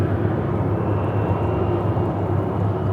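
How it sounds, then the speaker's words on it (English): A Boeing 737 airliner arriving from Montego Bay at Charlotte airport makes a steady, broad jet rumble at moderate distance, continuous throughout without voices. "This is a 737 coming in from Montego Bay."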